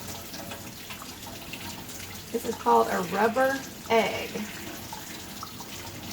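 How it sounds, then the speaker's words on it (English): Water runs from a sink faucet as a rubber egg is washed under it, a steady splashing that swells in the middle, while a person talks over it. "We're going to wash it off under the water and let's see what happens."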